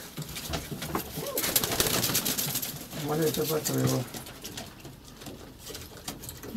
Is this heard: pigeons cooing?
yes